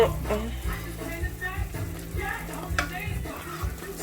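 Grits stirred in a pot on the stove, with soft, irregular scraping and swishing under a faint sizzle, while a person talks over it.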